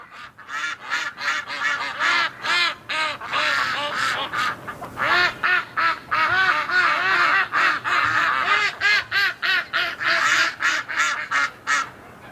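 A group of ducks out in falling snow quacks almost continuously, dense overlapping honking calls close by, with a brief lull near the middle before the chorus resumes.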